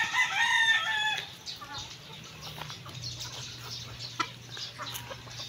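Chickens and ducks at an afternoon farm feeding, with a rooster crowing loudly up close at the start, then scattered clucking and the low murmur of the flock, faint voices talking in the background.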